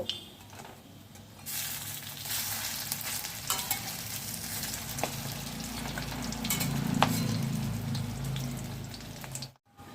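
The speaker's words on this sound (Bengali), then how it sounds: "বাকি বড়াগুলোও কিন্তু একইভাবে ভেজে নেব" Vegetarian radish fritters fry in hot oil, giving a steady, close sizzle with bubbling crackle that swells around the middle and cuts off abruptly at the end. Nobody speaks.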